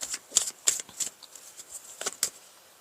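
Tarot cards are shuffled up close in a quiet room, a string of soft, crisp riffling bursts coming in an irregular rhythm with no voices.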